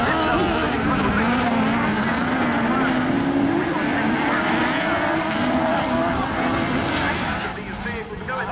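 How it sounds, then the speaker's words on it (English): Autograss race cars at Castle Combe revving together and tearing off the start in a continuous loud engine roar that rises and falls, with a commentator talking over it throughout. "Gives them the signal to start revving, and off they go."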